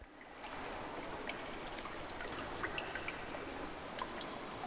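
Steady, soft flowing water in the first-person shooter E.Y.E: Divine Cybermancy, a continuous trickling stream with small drips and splashes, fairly quiet and with no voices.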